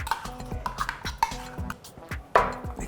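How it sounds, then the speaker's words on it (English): A spoon stirring yogurt and berries into whipped cream in a bowl, producing soft repeated scraping and light clinks against the dish, with a sharper knock near the end, close and quiet. "Mix that through, and then mix in your berries into all of that."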